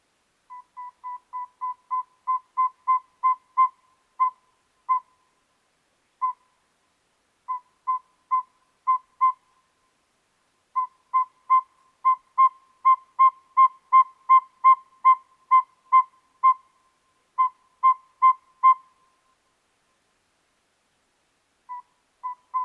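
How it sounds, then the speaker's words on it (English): A northern saw-whet owl gives a recorded series of clear, evenly pitched toots, repeated rapidly in long runs with brief pauses, alone and at steady volume. "Northern saw-whet owl."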